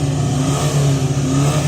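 A Volkswagen Transporter van engine revving hard and close, a steady throaty drone with rising and falling pitch, no voices.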